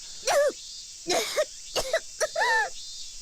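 A female character in the visual novel Chrono Clock coughs in several short, harsh bursts, four or five close together with brief gaps, fairly near and clear.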